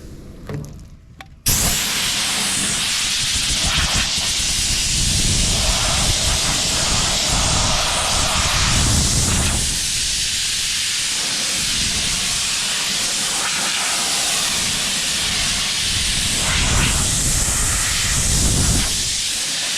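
An electric paint gun sprays paint onto a car at home, giving a loud, steady broadband hiss that runs almost unbroken for about eighteen seconds after a brief quiet start.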